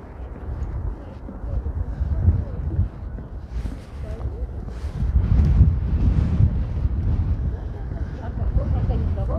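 Wind buffets the microphone on a beach boardwalk at Coney Island, Brooklyn, in January, a steady low rumble with louder gusts throughout and no talk.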